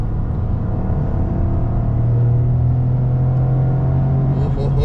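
Toyota GR Corolla with an automatic transmission holds a gear on an oval roval track, its engine a steady, loud, close droning rumble with a sustained low tone throughout and no talking.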